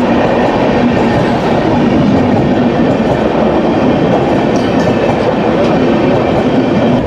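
A loud, constant rumble of the Black Diamond Express running on tracks after leaving Durgapur station, heard from inside, with steady rattling and no voices.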